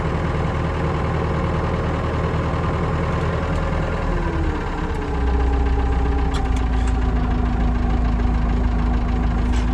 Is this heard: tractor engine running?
yes